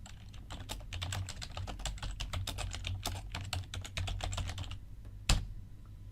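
Someone types on a computer keyboard, a quick, fairly quiet run of close key clicks that pauses near the end, followed by a single sharper keystroke.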